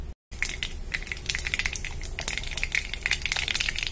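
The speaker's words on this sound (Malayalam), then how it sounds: "അപ്പൊ നമ്മളുടെ കടുക് ഏകദേശം പൊട്ടി തുടങ്ങിയിട്ടുണ്ട്." Mustard seeds pop in hot coconut oil with a dense, steady crackle of sharp snaps and spatters, close and continuous with no talking.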